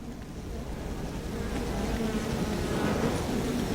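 Dense, agitated buzzing of many honeybees swarming around an open hive, a continuous close drone that swells louder toward the end.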